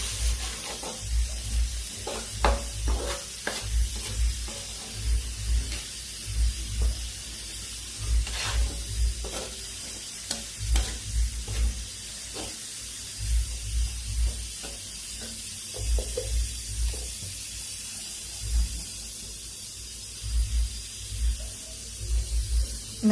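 Kottayam-style beef curry sizzling in a pan as spice powders are stirred in, steady frying hiss under repeated rhythmic scrapes and knocks of a spoon, close and moderately loud with no talk.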